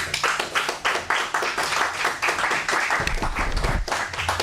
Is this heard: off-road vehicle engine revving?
no